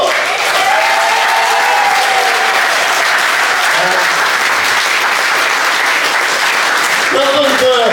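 An audience gives the host a loud, sustained round of applause, thick continuous clapping close up, with voices speaking over it now and then.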